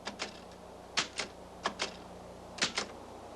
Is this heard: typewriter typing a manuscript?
yes